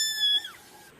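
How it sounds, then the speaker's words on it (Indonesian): A single short cat meow rises briefly and then slides down in pitch, clear and close, with quiet background. "bunyi kucing"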